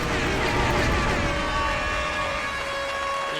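A Twitch bits cheer sound effect playing loud and continuous for a few seconds, a bright sustained synthetic swell with steady tones throughout, no talking.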